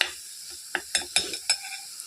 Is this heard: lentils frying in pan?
yes